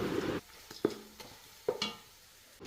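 Onions and chicken sauté in oil in a thick-bottomed pan. A quiet sizzle is broken by a few distinct scrapes and knocks of a spoon against the pan, with pauses between them and no voices.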